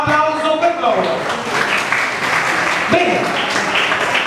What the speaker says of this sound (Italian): Applauso per loro.